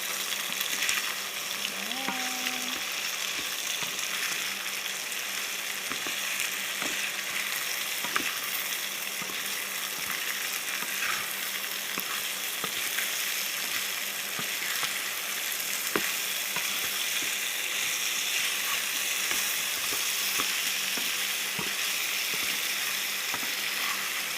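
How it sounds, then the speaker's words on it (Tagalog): Chopsuey vegetables frying in a pan give a steady, dense sizzle for the whole stretch, with faint scraping clicks of stirring scattered throughout and a brief tonal squeak near the start, no talking. "I-fry muna natin siya."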